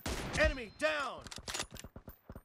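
Gunfire in the video game PUBG: a quick string of sharp shots follows a voice that speaks at the start.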